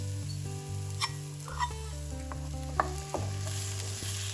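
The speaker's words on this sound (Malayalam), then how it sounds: "നുറുക്കിയത് നമ്മൾ ഈ നെയ്യിൽ കിടന്നൊന്ന് വെന്ത് വരണം" Chopped ripe plantain fries in ghee with a steady close sizzle while a spoon scrapes and stirs the pan in occasional clinks, no voices.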